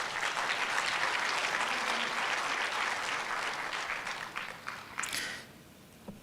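A conference audience claps in a dense, sustained round of applause that holds steady and then thins out and fades near the end, with a few scattered claps trailing off.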